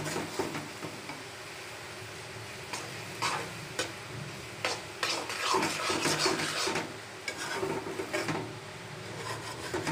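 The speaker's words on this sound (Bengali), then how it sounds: "তো এখন মশলাগুলো ভালো করে মিশিয়ে নিব।" Spices get stirred into cooked noodles in a pan, a utensil scraping and clicking in uneven strokes under a soft sizzle, close and moderately quiet, with no one speaking.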